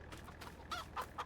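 Chickens in Farming Simulator 22 give three short clucks, each louder than the last, over a quiet farmyard background with no talking.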